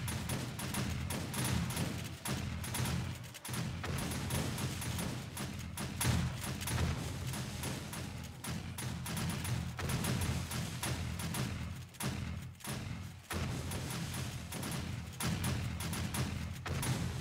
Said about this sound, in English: I'm gonna fire a good many more exploding crossbow bolts this horde